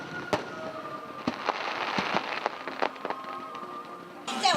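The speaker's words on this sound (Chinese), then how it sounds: "月光下，烟火一幕幕升空，犹如夜空中变幻的图画" Fireworks at a National Day display in the Miaoli hills go off at night, a series of sharp bursts and crackles at a distance, several in quick succession over a faint background, without talk.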